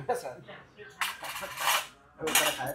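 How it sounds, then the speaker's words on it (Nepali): Bronze plates and cutlery clink and rattle at a restaurant table in Gangnam, Seoul, in three bright clattering bursts with brief pauses between them, close and moderately loud. "काँसे थाल पो रहेछ त"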